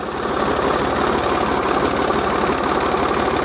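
An old off-road vehicle, started with a Volvo-style pull knob, idles near and loud with a steady low, knocking engine rumble throughout and no speech.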